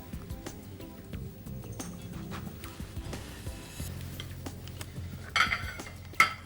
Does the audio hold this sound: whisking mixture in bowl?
yes